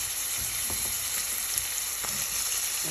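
Onion dropped into a hot pan for a wild vegetable breakfast sizzles in a dense, steady hiss, close and loud, with a few soft knocks of stirring and no talking.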